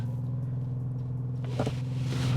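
A 2025 BMW 550e hybrid sedan in sport mode launches from a brake-held start, a low steady engine rumble swelling slightly as it pulls away, heard from inside the cabin.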